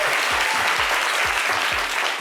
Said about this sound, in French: Merci de lui décerner des applaudissements.